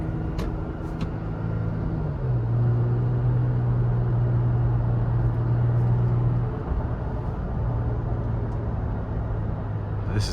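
A 2023 Toyota Tacoma TRD Sport's 3.5 V6 engine humming steadily from inside the cab while driving, its drone rising slightly in pitch as revs climb, then easing back and rising again, with road noise underneath.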